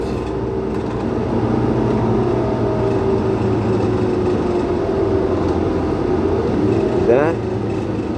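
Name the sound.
bus interior engine noise while riding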